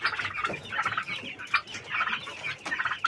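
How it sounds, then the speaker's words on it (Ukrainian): Two-month-old turkey poults cluck and peep in a steady, busy chorus of close, overlapping calls, with no talk over them. "Ось є індик."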